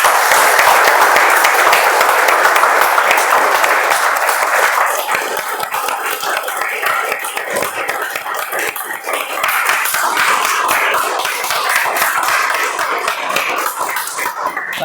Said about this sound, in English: I would like all of you to give a huge round of applause for each one of us over here.